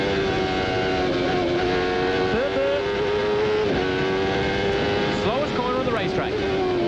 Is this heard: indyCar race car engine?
yes